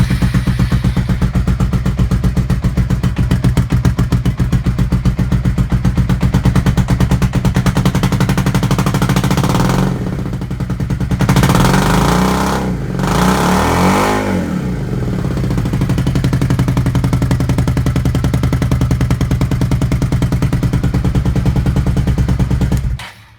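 Suzuki SV650 motorcycle with a baffled exhaust revving hard and continuously, loud sharp crackling pops and rapid bursts throughout, with a brief dip in revs around the middle before climbing again, no talking.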